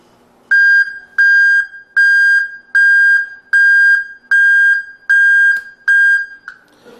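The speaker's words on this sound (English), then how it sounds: "backup alarms are designed to provide a warning sound in hazardous environments associated with vehicles" A Pollak PK41820 vehicle backup alarm gives a loud, steady electronic beep repeating about eight times at an even pace, each tone held for roughly half a second, with no voices.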